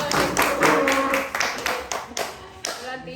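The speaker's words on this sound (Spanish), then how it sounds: "¡Aplausos!" A small group applauds an introduced guest on a family talk show, close, brisk hand claps in an irregular burst that tapers off over a few seconds.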